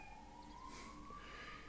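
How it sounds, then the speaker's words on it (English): Ambulance siren wailing at a distance, its tone sliding slowly upward, faint under a hum in a quiet room. "So we have an interesting ambulance alert."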